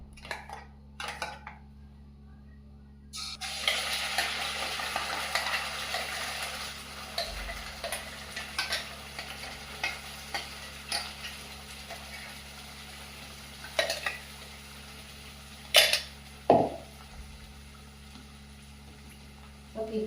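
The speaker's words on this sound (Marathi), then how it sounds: "तो वाटप मसाला ह्या तेलात परतून घेऊया." Ground masala paste for chicken curry is sautéed in hot oil, with a soft steady sizzle under occasional scrapes and clinks of a spoon against the pan, all fairly quiet.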